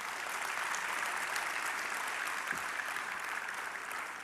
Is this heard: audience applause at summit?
yes